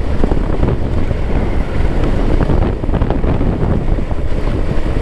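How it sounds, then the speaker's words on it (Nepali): The Sardu river (khola) at Dharan rushes past in a loud, continuous broadband roar with steady wind buffeting the microphone, and no voices are heard. "सर्दु खोला भनेको चाहिँ यही रहेछ के"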